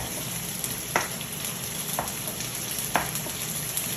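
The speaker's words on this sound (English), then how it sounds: "I'm just going to start putting in the meat into the skillet, and it's pretty warm" Cut-up chicken meat sizzles steadily in a hot skillet for a sweet and sour chicken dinner, a dense close hiss broken by a few sharp spatter pops and stirring clicks.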